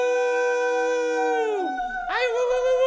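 People on a stream imitate a wolf howl: one long, sustained, wavering voice that drops away, then a second howl rises sharply and holds, loud and close.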